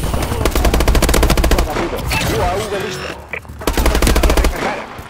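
Automatic gunfire in Call of Duty Advanced Warfare, loud rapid bursts of machine-gun fire at the start and again near the end, with a quieter stretch of game noise between them.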